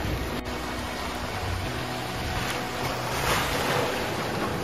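Sea waves washing in at Are Ware beach in Ratnagiri, a steady broadband surf wash with a swell near the end, laced with wind rumble on the microphone and carrying no voices.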